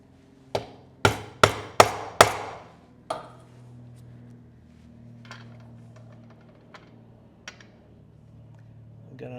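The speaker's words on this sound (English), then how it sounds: "Grab my Berry King snap setter." A Berry King snap setter is struck sharply on leather five times in quick succession, loud ringing hammer blows, followed by fainter scattered taps and handling sounds.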